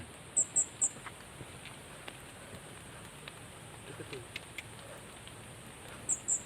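High, thin bird calls on a mountain trail on Mount Ciremai, a quick burst of three chirps at the start and two more near the end, faint and distant over quiet forest ambience.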